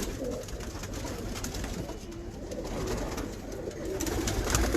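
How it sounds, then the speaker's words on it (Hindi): Pigeons coo continuously on a rooftop loft in hot summer weather, a steady low murmur of overlapping calls with no talk. "बस आप इधर ये कबूतरों को अंदर करके बंद कर लें"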